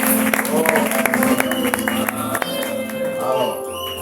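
A church congregation applauding to acclaim the Lord, dense sustained clapping from a crowd with background music tones, fading slightly toward the end.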